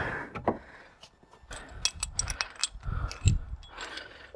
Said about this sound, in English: let's wind that caliper back first